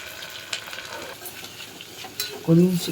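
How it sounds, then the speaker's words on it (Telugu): Sliced onions stirred and frying in a pan for a goat head curry, a steady soft sizzle with scraping stirs, louder spoon clatter near the end. "కొద్దిగా మిక్స్ చేస్తూ ఉండాలి. లైట్గా మిక్స్ చేస్తే ఏంటంటే మనకు కొంచెం బ్రౌనిష్గా వచ్చేలాగా ఆనియన్స్ కొద్దిగా మిక్స్ చేస్తూ ఉండాలి."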